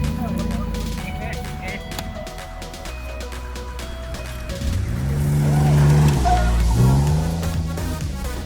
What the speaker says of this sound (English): That's a Ford Ranger.